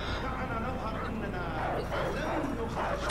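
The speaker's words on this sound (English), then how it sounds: "Oh, you just survived that dog" A dog barks and growls in the video game Call of Duty Modern Warfare Remastered, with repeated close yaps amid game noise while someone talks over it.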